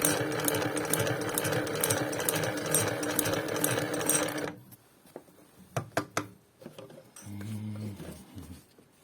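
A class 93 heavy-duty industrial sewing machine stitches through four layers of thick webbing strap, running loud and steady for about four seconds, then stopping, followed by scattered clicks and a short low motor burst.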